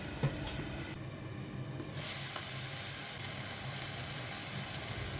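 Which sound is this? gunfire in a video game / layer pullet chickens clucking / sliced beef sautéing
sliced beef sautéing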